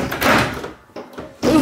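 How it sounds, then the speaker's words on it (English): A house door is opened, giving a few close, short knocks and thumps spread over about a second and a half, with no talking. "The door opened."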